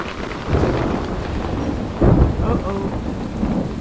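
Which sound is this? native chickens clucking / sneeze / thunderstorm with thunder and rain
thunderstorm with thunder and rain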